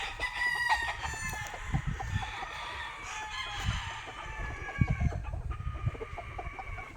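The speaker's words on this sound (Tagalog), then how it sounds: "Mga manok." Chickens cluck and a rooster crows repeatedly outdoors at a farm lot, with overlapping calls at moderate distance throughout and no talking.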